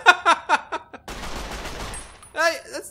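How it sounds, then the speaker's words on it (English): An energy weapon fires in the video game Fallout: New Vegas: a dense, crackling burst of shots lasting about a second, loud and close, with a person talking just before and after it. "Oh, it's an energy weapon."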